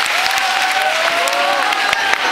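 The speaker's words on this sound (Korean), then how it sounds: "다시 한번 큰 박수 부탁드립니다" Audience applause at a Lee Joon-gi fan event, a dense, bright wash of many hands clapping loudly and close, with some cheering mixed in, holding steady.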